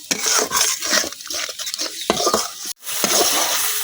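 Masala spice paste, with salt added, is stir-fried in a pan for chicken curry in a village kitchen. There is a steady sizzle with continuous scraping and stirring, plus a brief clatter and a sharp pause midway.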